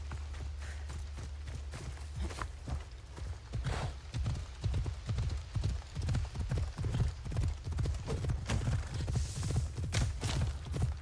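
Horse hooves clip-clopping in the video game Assassin's Creed Odyssey, a steady galloping rhythm of close, loud hoofbeats that carries throughout, with faint game ambience behind it.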